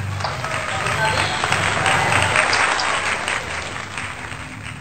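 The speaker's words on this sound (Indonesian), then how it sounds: "Dan mari kita sambut Ibu Heldi Hagur Nabit dengan tepuk tangan." Sustained applause from a webinar audience, dense steady clapping that swells slightly midway and then gradually thins out.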